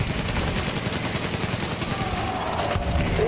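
Sniper gunfire in a first-person shooter game, a dense run of sharp cracks and rapid bursts close up and loud throughout, with battle noise layered behind.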